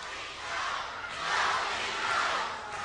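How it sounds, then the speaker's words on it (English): Wrestling crowd at a 1986 bout between the Dingo Warrior and Ravishing Rick Rude, a steady distant roar of cheering that swells in the middle and stays broad and continuous throughout. "So the crowd picking up with Dingo right now."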